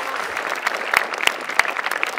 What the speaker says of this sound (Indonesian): Kita berikan tepuk tangan untuk dua orang rekan kita.